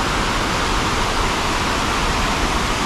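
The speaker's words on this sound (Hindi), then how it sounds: "पानी देखो कितना लाउड आ रहा, मतलब कितनी तेज़ आवाज़ आ रही पानी की" River water rushes loudly at a picnic spot in Dehradun, a dense, steady roar that fills the sound alone without any break.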